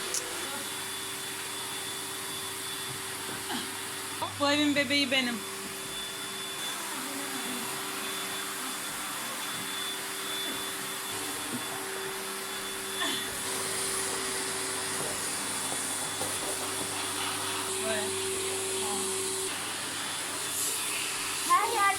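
An electric vacuum cleaner runs as a continuous loud whirring hiss with a steady tone, while a child and an adult talk over it in a home.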